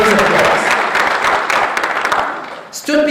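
A large audience at a conference claps loudly, with steady applause and crowd noise that fade near the end before a voice comes in.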